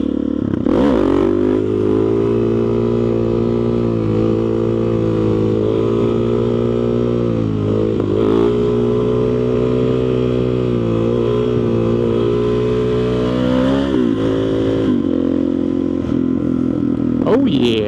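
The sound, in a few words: motorcycle doing a wheelie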